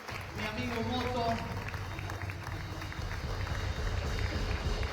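Congregation in a church breaking into applause, a steady wash of clapping from many hands with a low murmur beneath, moderately distant and continuing evenly for several seconds.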